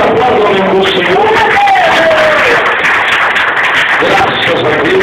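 Church congregation applauding and cheering together, a loud continuous wash of crowd noise with voices shouting and whooping throughout.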